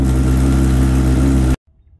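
A Honda CBR600RR motorcycle engine runs loud and close with a deep steady rumble, then cuts off abruptly into near silence.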